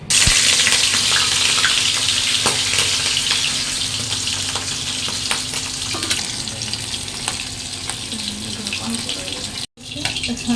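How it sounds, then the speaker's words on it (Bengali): Salted, turmeric-coated rohu fish pieces fry in hot oil in a wok, giving a loud, close, continuous sizzle with scattered crackles and pops, briefly cut off near the end. "কড়াই তেল দিলাম, এবার মাছটা ভেজে নেব।"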